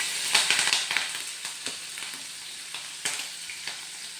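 Ginger and green chili frying in a hot pan, a steady close sizzle with crackling pops that burst several times and then ease off.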